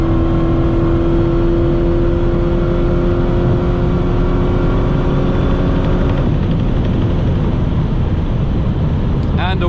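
Dodge Hellcat XR widebody with 888 horsepower accelerating hard at high speed with wheel spin, a loud sustained engine roar with steady tonal whine and broadband rush throughout, changing character near the end.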